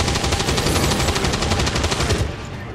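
Rapid automatic gunfire from the video game XCOM 2, a dense sustained burst of shots lasting a few seconds before tapering off, loud and close with no talking.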